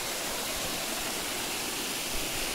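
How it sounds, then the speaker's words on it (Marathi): A waterfall roars steadily beside a rocky crab-hunting spot outdoors, a dense continuous rush of water that stays at one level throughout with no voices. "बघा किती असा सुंदर असा धबधबा इकडे"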